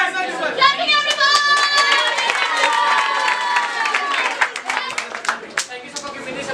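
A group clapping at an English café role-play session, a ragged burst of hands with voices chattering and cheering over it, close and lively, the clapping thinning into scattered claps toward the end.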